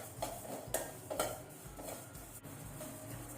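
Sesame seeds dry-roasting in a pan with no ghee, giving a steady soft crackle with light scraping and a few clinks of a spoon against the pan.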